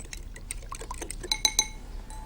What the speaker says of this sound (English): Give it a good old whisk. Mix them both up together.